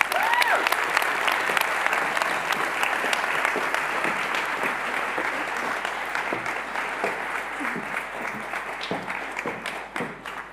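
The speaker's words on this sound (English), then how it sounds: "Please give her a warm applause" Warm, sustained applause from a seated audience at a lecture event on just peace in The Hague, full and steady clapping throughout with faint crowd murmur underneath.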